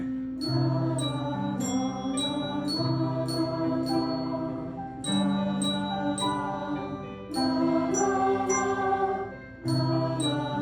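A group of bells rings out together in a live music-theory game show session, with bright struck tones chiming in steady, repeated rhythmic phrases, loud and close, with no talking over them.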